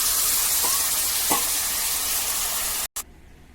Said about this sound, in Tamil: இப்போ கொஞ்சம் புளியை கரைச்சி அதில் ஊற்றணும்.